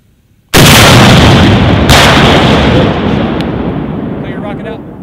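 An AT4 rocket launcher fires a live rocket in a single huge, close blast that cuts off the quiet. A second sharp crack follows about a second later, then a long rumbling roar slowly fades away.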